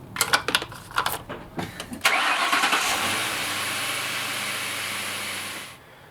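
A Ford 4.6L V8, just repaired after a cracked intake manifold coolant inlet, cranks with a few clattering bursts, then catches and settles into a steady, loud idle close by before cutting off near the end.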